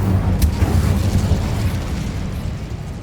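The Incendio fire spell goes off in Hogwarts Legacy as a loud, close burst, a rumbling whoosh of flame that rolls on and slowly fades over several seconds.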